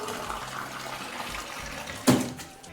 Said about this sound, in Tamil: ரைஸ் குக்கர்ல கொஞ்சம் தண்ணி ஊத்திக்கிறோம்